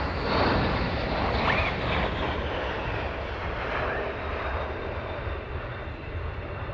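Fighter jets of the 492nd squadron fly overhead at RAF Lakenheath, a loud, sustained engine roar that swells early and then slowly eases off as the aircraft pass, with no voices.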